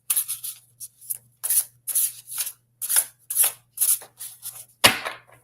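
Cards being shuffled for a card reading in quick riffling bursts, about a dozen short crisp flutters with brief pauses between, close up, ending in a louder snap.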